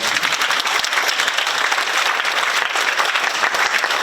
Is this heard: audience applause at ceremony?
yes